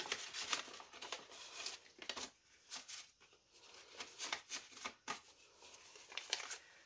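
A greeting card slid into a paper envelope, giving soft papery rustles and crinkles in several close, quiet bursts with no one talking.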